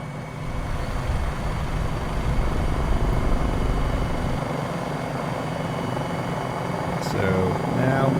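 A helicopter in Microsoft Flight Simulator 2020 gives a steady, loud rotor and engine drone that holds evenly throughout, with a short whistling sweep near the end.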